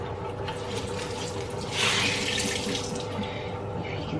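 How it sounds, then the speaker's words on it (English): Cloth menstrual pads are rinsed under a running tap at a sink, a steady close splash of flowing water that swells briefly partway through as the cloth is moved under the stream. "we're just going to rinse all of these ones out"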